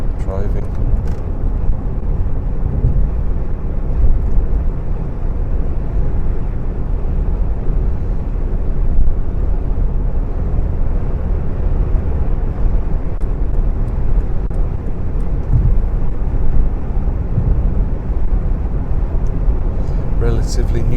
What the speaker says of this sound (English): I think that'll make for a good bit of M20 motorway driving.